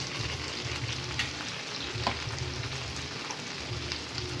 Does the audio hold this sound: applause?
no